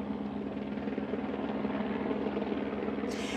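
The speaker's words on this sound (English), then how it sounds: "Among the helicopters flying over downtown right now, Cleveland police helicopters trying to keep watch over the city." Cleveland police helicopters flying over downtown Cleveland give a steady, throbbing rotor drone with a low rhythmic chop, fairly loud and continuous, with a brief higher hiss rising near the end.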